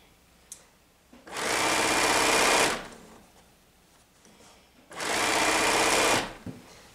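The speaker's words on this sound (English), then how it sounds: "when you're sewing on your sewing machine" A sewing machine stitches pants, running in two steady bursts of about a second and a half each, loud and close, with quiet pauses between them.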